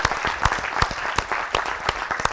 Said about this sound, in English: Give Mr. Yahuwah a hand clap.